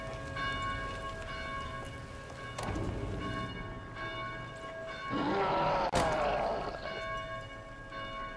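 Church bells ring from a belfry in the Dead Island video game, steady tolling tones layered under rain and thunder-like ambience, loud and sustained with no speech.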